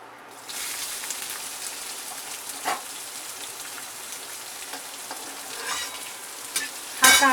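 Onion with cumin and curry leaves frying for samosa filling, a close, even crackling sizzle like rain on a surface, broken by occasional stirring scrapes and a louder clatter at the end.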